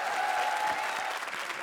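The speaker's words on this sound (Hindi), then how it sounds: "जोरदार तालियां" A studio audience on the Comedy Circus show breaks into brief, dense, loud applause, an even burst of clapping with no talk over it.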